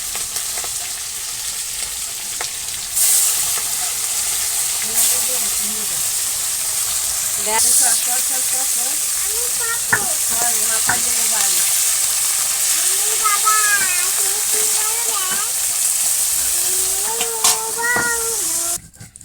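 Hilsa fish frying in oil gives a steady, loud sizzle that runs almost the whole way through, with occasional scrapes and clinks from a spoon. Voices talk over it at intervals.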